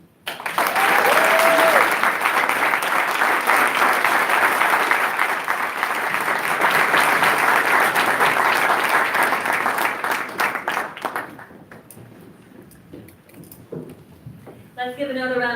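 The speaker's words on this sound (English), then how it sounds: "Let's give another round of applause for the powerful words of the Leadership Award winner." Sustained audience applause at an MLK leadership awards gala, loud dense clapping with a brief voice over it early on, tapering off near the end as a speaker begins talking.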